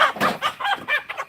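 A rooster clucking close by behind a garbage can in a series of short, loud, bursting calls.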